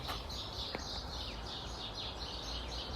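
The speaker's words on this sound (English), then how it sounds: "I can hear loads of little birds," A steady chorus of many little birds cheeps continuously at a distance outdoors, thin high calls overlapping without pause over a constant background hiss.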